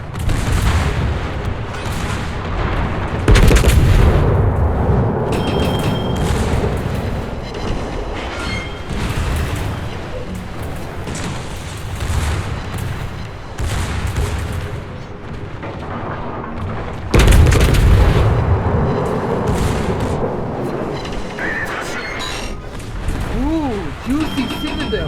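Naval guns of the French Tier X large cruiser Marseille in World of Warships, heavy booming salvos over a steady rumbling engine-like bed, with someone talking throughout.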